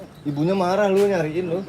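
A turtle dove (tekukur) coos nearby in a rising and falling tonal call, close and clear, with a voice speaking briefly over it.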